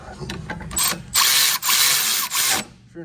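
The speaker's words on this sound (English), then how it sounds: "And now we'll tighten down those two little bolts." Rapid ratchet clicking tightens the rear brake bolts on a Honda Fit, loud and close, in several quick bursts separated by brief pauses, with no talking.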